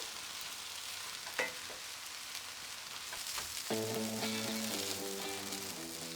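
Kimchi fried rice fries in a pan over low flame, giving a faint, steady sizzle with scattered scraping clicks from stirring, and a short run of tonal beeps sounds near the end.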